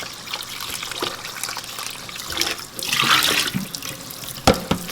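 Cold well water runs from a tap into a sink, splashing and trickling as butter is rinsed, with a louder gush midway and a few knocks.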